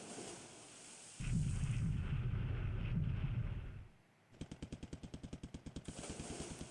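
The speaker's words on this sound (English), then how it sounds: "But unluckily, most of this is airstrikes attacking from the wrong side." Airstrike explosions in the WWII naval wargame Pacific: AE: a sustained rumbling blast roars for a few seconds, then a rapid string of sharp repeated bursts like anti-aircraft or gunfire rattles on, loud and close with no talking.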